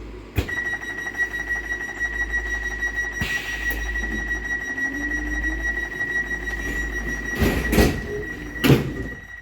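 A Transport for Wales Class 230 train, a converted former tube train with slam doors, hums steadily with a constant whine and low rumble, punctuated by a few sharp clunks and door-like bangs near the end.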